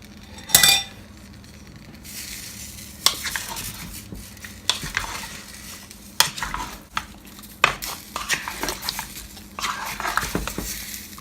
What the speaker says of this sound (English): Just stir in the ingredients.